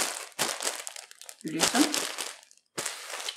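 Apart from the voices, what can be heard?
yarn skeins packed into crinkling plastic bags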